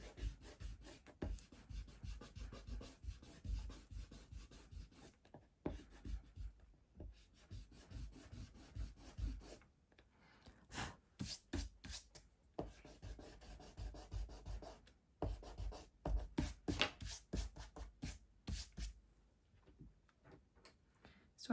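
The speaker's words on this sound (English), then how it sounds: "just rub out some of these initial outlines" An eraser rubs out pencil outlines on paper in a drawing of a flamingo: close, soft, rapid scrubbing strokes in bursts with short pauses between, quiet and dry.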